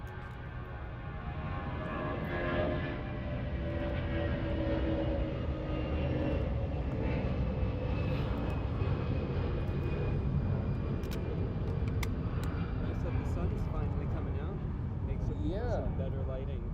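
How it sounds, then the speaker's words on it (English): A Delta Airbus A330-900 arriving at LAX from Tokyo Haneda, heard as a steady, fairly distant jet engine rumble that stays level throughout. Voices talk faintly over it. "this is our Delta flight coming in from Tokyo Haneda on an A330-900"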